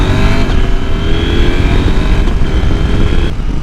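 A KTM 890 Adventure R motorcycle engine revs loudly and close, a steady high droning roar held for a few seconds that eases slightly near the end, with no talk.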